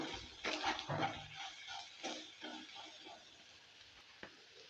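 Taro being stirred in a pan with salt and turmeric gives a few soft scraping and rustling strokes, fairly quiet and close, with a small clink near the end.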